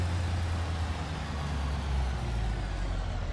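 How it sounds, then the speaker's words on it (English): A loud racing car engine in a rally-mode driving game roars steadily and close for the whole stretch, with a heavy low rumble and no talking. "You guys are sure this car isn't too loud for you?"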